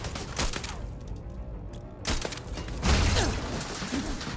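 Turret gunfire in Starfield, a run of rapid cracking shots and thumps in bursts, with a short gap and then a louder cluster of impacts toward the end, all within busy combat noise.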